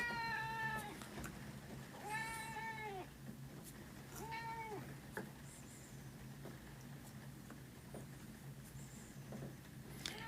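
A demanding house cat meows repeatedly indoors, several drawn-out, wavering cries spaced a couple of seconds apart over a low steady background hum.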